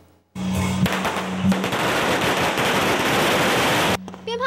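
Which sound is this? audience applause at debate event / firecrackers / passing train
firecrackers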